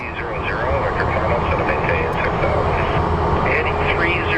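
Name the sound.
WestJet Boeing 737 Max jet airliner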